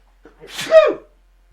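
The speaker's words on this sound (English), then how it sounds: "I'm going to sneeze here." A single loud, close sneeze with a quick intake of breath and a sharp burst, then silence.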